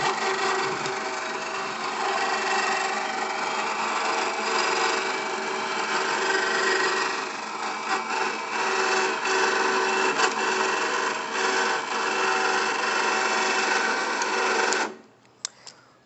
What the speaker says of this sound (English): activate the winch